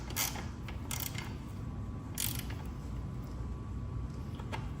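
Ratchet wrench clicking as it tightens a bolt during wheel removal on a Rattan LF 750 PRO, a few bursts of ratcheting over a steady low mechanical hum.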